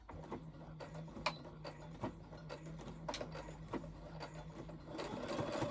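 A sewing machine stitches back over existing seams on a small fabric holder, a steady close mechanical hum with regular rapid needle ticks, quiet and with no speech.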